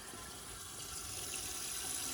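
A 1956 Case Camel toilet rinses its bowl with a quiet, steady rush of running water that swells slightly toward the end, with no talking.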